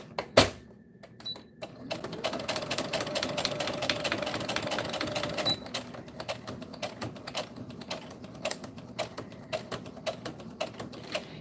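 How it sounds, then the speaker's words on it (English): A sewing machine stitches a beach bag liner in a fast, dense mechanical run, then slows into scattered clicks and short bursts, close by and with no talking. "I'm sewing"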